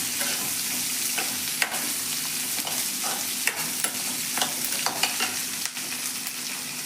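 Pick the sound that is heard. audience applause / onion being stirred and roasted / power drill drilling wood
onion being stirred and roasted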